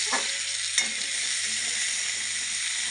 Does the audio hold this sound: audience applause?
no